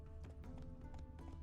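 A horse galloping in The Witcher 3 video game, its hooves clip-clopping in a quick steady rhythm, fairly quiet and with no talking.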